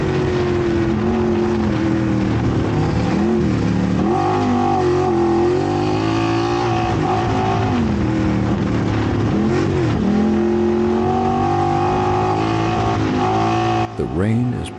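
Side-by-side race cars run in a rainy 12-hour endurance race, a loud, close engine roar that rises and falls with revving throughout and cuts off abruptly at the end.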